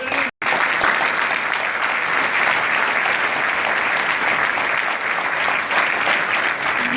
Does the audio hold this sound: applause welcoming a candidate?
yes